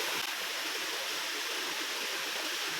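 Water pours steadily at the square falls of Puting Buhangin in Mogpog, Marinduque, a dense, loud, unbroken rushing hiss from nearby with no pauses.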